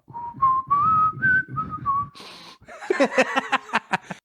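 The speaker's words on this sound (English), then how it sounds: "I had like a snort? whistle in my nose" A thin, wavering whistle through a person's nose rises and falls in pitch for about two seconds close up, followed by breathy snorting bursts and light laughter.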